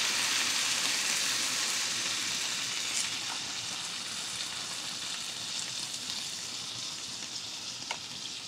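Vegetables simmer down in miso broth with a steady, soft sizzle and bubbling hiss that runs on without a break and stays moderately quiet, and no one speaks.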